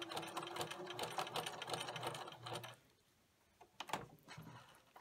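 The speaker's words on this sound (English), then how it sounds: "I'm going to do a little zigzag stitch along there, a narrow one." A home sewing machine runs a narrow zigzag stitch along fabric for a felt-like banner, its rapid mechanical whirring steady for a few seconds, then stopping, with a brief restart near the end.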